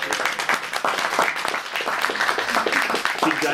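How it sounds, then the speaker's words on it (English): An audience at a book launch claps warmly for the author, a dense, steady wash of many hands applauding close by, with voices faintly mixed in. "keep your applause going for her two daughters here as well"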